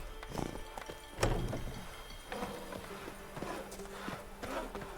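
Roach the horse trotting in The Witcher 3: Blood and Wine, hooves clip-clopping in a steady rhythm at close range, with a brief snort or whinny near the start and no talk over it.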